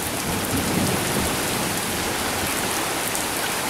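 Near a cabin, a summer thunderstorm drops heavy, wall-like rain in a loud, constant roar, with a faint rumble of thunder beneath the downpour.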